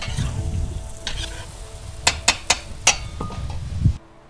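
Red and yellow carrots sizzle in a kazan of plov as a utensil stirs them, a run of four or five sharp metallic scrapes and knocks cutting through the steady frying hiss before it stops abruptly.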